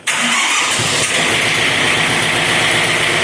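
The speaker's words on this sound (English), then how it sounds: "you gotta start the tractor up" A tractor engine cranks and fires up, then settles into a loud, steady diesel idle with a close, continuous mid-pitched rumble and no talking.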